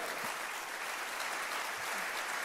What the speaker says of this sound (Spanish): Si le vas a dar ese aplauso al Señor, dáselo fuerte.